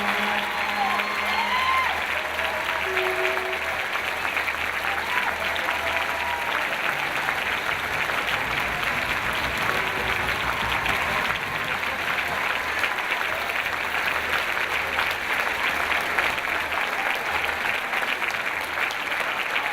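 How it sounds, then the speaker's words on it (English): Steady, sustained applause from a large crowd at a school district convocation, continuous and even throughout with a faint murmur of voices beneath. "Please give them one more round of applause."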